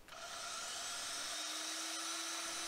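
Vevor portable metal-cutting bandsaw working through 20 mm thick mild steel, making a steady, sustained whine with a fine grinding edge that continues throughout the short stretch, with no voices.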